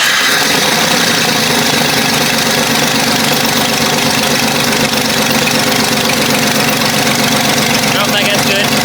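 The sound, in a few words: Jeep 4.0L engine cranked up and running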